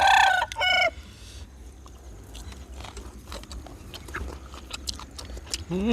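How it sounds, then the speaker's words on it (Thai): Chickens cluck and a rooster crows in a rural Thai village yard, with a loud crow at the start and further short clucks and calls spread over a steady background murmur. "ไก่มา"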